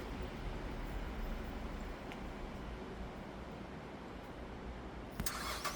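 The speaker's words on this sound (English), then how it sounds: "Alright, the Cadillac started right up." A Cadillac SRX engine, jump-started after a battery replacement, runs as a steady low rumble throughout, with a brief broader burst of noise near the end.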